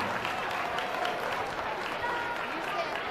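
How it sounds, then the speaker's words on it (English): A crowd at a county youth livestock swine show applauds the class exhibitors, a sustained, dense patter of clapping with faint voices and arena murmur mixed underneath. "Let's have a round of applause for our Class 5 exhibitors."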